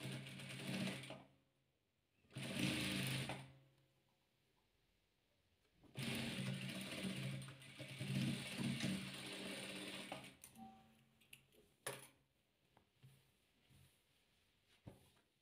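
A sewing machine stitches fabric strips for a patchwork heart quilt, running in several loud mechanical bursts of a few seconds each, then a few shorter stop-start runs with pauses between.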